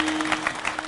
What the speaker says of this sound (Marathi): एकदा यांच्या करता परत एकदा टाळ्या वाजव.